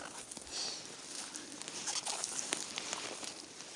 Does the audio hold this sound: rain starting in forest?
yes